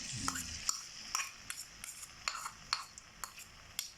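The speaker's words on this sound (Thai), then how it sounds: "พอน้ำมันหอดได้ทีแล้วก็ใส่เครื่องผัดลงไปเลยครับ" Chili, garlic, shrimp paste and shallots stir-fried in hot oil: a soft sizzle beneath crisp, evenly spaced scrapes and taps of a spatula on the wok, close up and fairly quiet, without speech.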